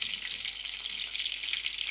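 Fish fries in hot oil over low heat, a steady soft sizzle and crackle throughout.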